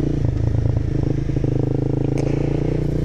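Honda CBR 250 motorcycle engine droning steadily while riding, close and loud with a constant rumble and no voices.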